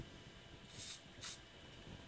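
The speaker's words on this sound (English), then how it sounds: "Use the aerosol accelerator," Two short hissing bursts of aerosol glue accelerator spray, faint and close, separated by a brief pause over quiet room noise.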